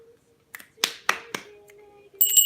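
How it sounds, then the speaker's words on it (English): Four sharp hand claps in an uneven rhythm, fairly close and clear, in a quiet room with a steady low hum underneath and a bright bell-like ring at the end. "I'm clapping"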